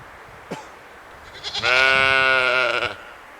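A goat among sheep lets out one long, loud, wavering bleat close by, preceded by a brief faint call, with livestock on a farm visit.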